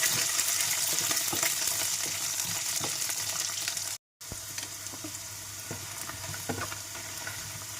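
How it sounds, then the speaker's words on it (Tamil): Whole garlic cloves sauté in hot oil in a pan for a garlic and chili chutney, giving a loud, steady sizzle and crackle with faint stirring, briefly cutting out midway before resuming, with no voices. "பூண்டு நல்லா வதங்கட்டும்."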